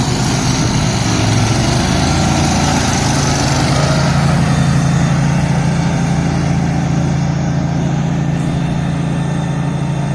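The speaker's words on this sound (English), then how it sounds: "So the John Deere picks up more speed." A John Deere garden tractor engine at a tractor pull, droning loud and close with a steady roar that holds strong throughout as it picks up speed.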